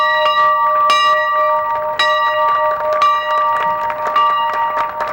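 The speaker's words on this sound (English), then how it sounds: "President Dallenberg will ring the bell in honor of President Gordon Blackwell, who was unable to join us today" A large ceremonial bell at a university ceremony honoring a former president rings in repeated loud strikes about a second apart, each tone ringing on and layering into a sustained metallic hum.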